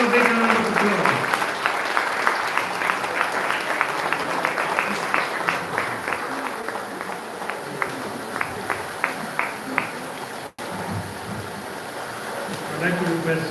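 Applause from an audience at the launch of a safety and security team, steady dense clapping throughout with some voices mixed in, a brief dropout near the end, then the clapping carries on.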